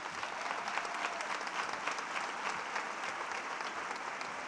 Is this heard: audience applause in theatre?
yes